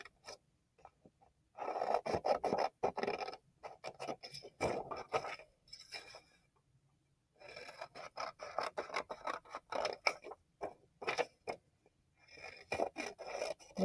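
Scissors snip out paper flipbook pieces in quick bursts of crisp, close cutting, broken up by short pauses as the paper is turned.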